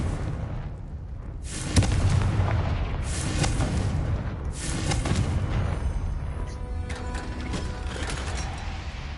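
Fire-spell blasts in a PS5 wizarding video game, a run of heavy booming bursts with rumbling low end and crackling tails, loud and close, following one another over a steady background of game noise.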